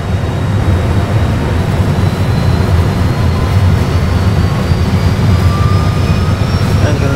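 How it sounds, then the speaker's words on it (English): Airliner jet engines spool up to takeoff thrust for departure from Ajaccio Airport, a steady, loud, broadband roar that holds throughout with a faint rising whine above it. "Engine stable and check takeoff thrust."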